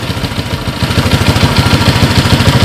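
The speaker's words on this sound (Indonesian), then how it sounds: "dia bisa nyala, namun ya gejalanya seperti ini kan, dia seperti berbet-berbet lur" Honda Supra X 125 motorcycle engine idling roughly and unevenly, a close, steady low-pitched chugging with rapid pulses that sputter and falter, loud and alone with no talking.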